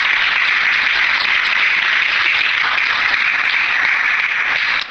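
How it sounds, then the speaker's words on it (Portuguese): A church congregation applauding during a service, a steady, loud wash of many hands clapping together that holds evenly throughout and then stops abruptly at the very end. "Forte as palmas, amém, igreja?"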